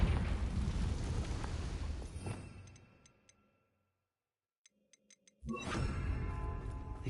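A Confringo explosion spell in Hogwarts Legacy goes off with a loud, rumbling blast that slowly fades to silence. A few soft ticks follow, then another heavy burst of rumble starts.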